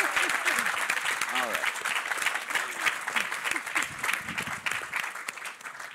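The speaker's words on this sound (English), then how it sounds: "A round of applause." Conference audience applauding, a dense steady clapping that carries on for several seconds while a person talks over it.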